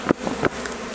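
Honeybees buzz around a beehive frame at close range, a busy droning hum with a few louder swells as individual bees pass near.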